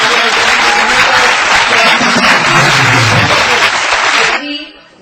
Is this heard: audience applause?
yes